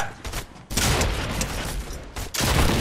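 Semi-automatic gunfire in Fortnite, with dense bursts of shots filling most of the clip and a short lull in the middle, loud and close.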